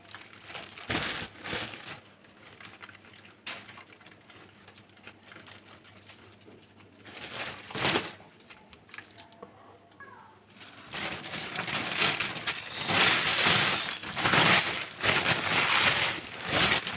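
Plastic bags are handled and crinkled while salted fish is being prepared for fesikh, giving close, irregular rustling and crackling bursts that grow denser and louder toward the end.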